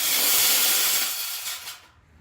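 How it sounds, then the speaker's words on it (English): Angle grinder cutting during construction of a mud room addition and sliding door, a loud close hissing rush that fades and stops after about two seconds. "now I got the grinder, so I'm gonna do that."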